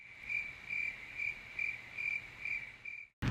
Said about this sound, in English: There's crickets chirping.